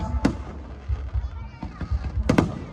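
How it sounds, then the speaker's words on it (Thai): Fireworks at a competition display burst with a few sharp booms and scattered crackling pops at a distance, while people talk throughout. "เพื่อให้สมเกียรติกับคุณไพรินโตอินเราจะยิงอย่างนี้ทั้งคืนเลยนะครับ"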